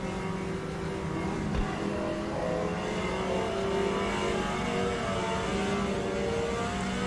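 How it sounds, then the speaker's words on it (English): A race car engine in the racing game Automobilista 2 at Road America drones steadily with a rising, revving tone, layered over continuous rumbling road and tire noise, loud and close throughout. "you can hear my tires, and so you can hear the road noise as well"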